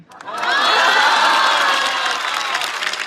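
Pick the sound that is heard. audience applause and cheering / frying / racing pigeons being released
audience applause and cheering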